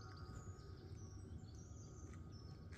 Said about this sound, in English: All I've got is the sound of the birds and the diesel heater on the van